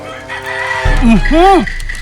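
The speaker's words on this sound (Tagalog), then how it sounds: "Daghanag manok ni Lula, oy!" A short burst of loud, close clucking and squawking calls from chickens, rising and falling in pitch over a low rumble.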